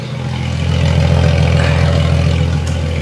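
A Jeep XJ Cherokee engine with a straight-piped exhaust revs loud and close, a deep steady drone that swells and holds for a few seconds with no talk.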